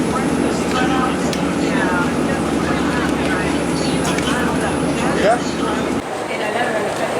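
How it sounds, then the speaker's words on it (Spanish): A Stockholm metro train rumbles steadily through Fridhemsplan subway station, a loud continuous low roar that drops off abruptly near the end, with voices murmuring underneath. "Larga escalera mecánica del subte Fridhemsplan."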